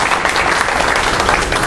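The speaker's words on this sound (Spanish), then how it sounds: "vamos a recibir con un fuerte aplauso" Audience at a union assembly breaks into sustained, dense applause to welcome a visiting secretary, a steady wash of clapping filling the room from start to finish with no talk over it.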